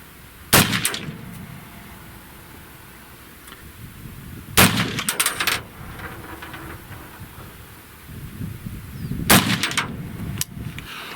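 Three loud rifle shots fired at a 100-yard target through a generic scout scope, each a sharp crack with a rolling outdoor echo, spaced several seconds apart.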